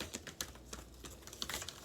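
A larger-than-usual deck of tarot cards is shuffled by hand close up, producing a faint run of crisp, irregular taps and light riffling clicks.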